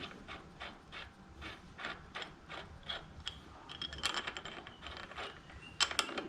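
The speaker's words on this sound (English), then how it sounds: "Take the crankset removal tool, first screw this part in." A crankset removal tool is threaded into a Shimano Deore Hollowtech crankset, giving quiet, close mechanical ticking and ratchet-like clicks in an uneven rhythm, with a few brighter metallic scrapes near the end and no voices.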